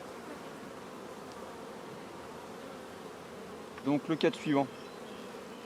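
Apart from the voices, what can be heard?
honeybees buzzing in an open hive during inspection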